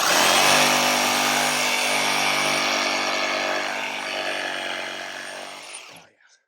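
A DeWalt FlexVolt reciprocating saw cuts through fallen tree limbs, held one-handed, a loud, harsh, continuous buzzing rasp that runs for several seconds before the motor cuts out and winds down.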